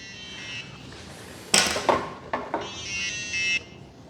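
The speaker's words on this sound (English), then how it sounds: "That's an inactivity alarm." An E-flite radio-control transmitter sounds its inactivity alarm, a harsh electronic tone that sits steady near the start and end, with a few louder clicks and bursts in between.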